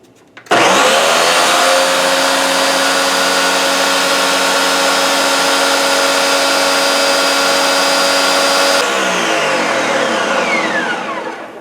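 A small bullet-style blender grinds granulated sugar into icing sugar, a loud steady high whir running continuously for about eight seconds before spinning down.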